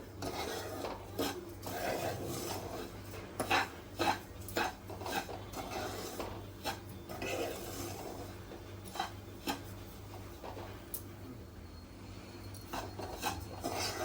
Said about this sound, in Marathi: मिडियम गॅसवरती आपण रवा भाजतोय